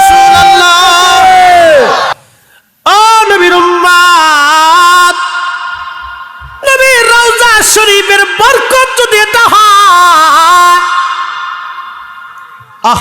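A large crowd at an Islamic sermon gathering shouts loudly together in long, sustained bursts, separated by short pauses.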